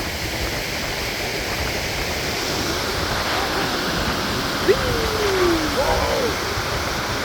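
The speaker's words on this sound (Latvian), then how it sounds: "Mēs esam pie ūdenskrituma." Waterfall in Scotland near a mill, a loud continuous rushing roar of falling water heard up close, with a brief faint voice-like sound partway through.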